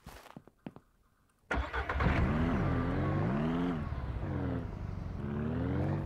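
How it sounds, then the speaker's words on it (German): A vehicle in the Ranch Simulator video game starts up after a few faint clicks, then its engine runs steadily and loudly, rising and falling in pitch as it drives off, with no talk. "Wir fahren jetzt mal mit dem Fahrzeug schnell dahinter."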